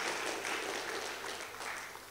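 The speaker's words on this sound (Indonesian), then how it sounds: "Tepuk tangan dong pemuda." Audience at an Islamic shalawat gathering applauding in a dense, fairly quiet wash of clapping that fades slightly toward the end.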